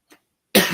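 A single abrupt, loud cough bursts out close by, after a brief faint rustle and a moment of silence.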